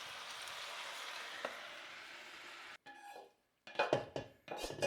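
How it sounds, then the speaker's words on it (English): Browned beef clatters out of a pan into a crock pot, with scraping and clinking of utensil on metal in short bursts, then brief silence and a few louder knocks and scrapes near the end. "Now we're going to put it into the crock pot."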